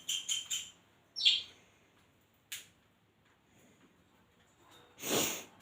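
Pet cockatiels and budgies give a few short, bright chirps and calls, spaced out with quiet gaps between them, close by and fairly clear, with one louder burst near the end.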